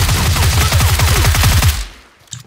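Rapid automatic gunfire in the PUBG video game rattles loudly in a fast continuous burst for nearly two seconds, then stops, leaving a faint tail and a small click.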